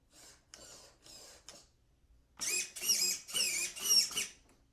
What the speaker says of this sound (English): The servo on the FJ is probably 5 times louder than this guy.